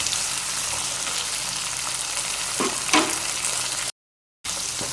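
Eggplant sautéing in hot oil for a curry, a continuous close sizzle with a few soft stirring scrapes, broken by a brief gap of silence near the end.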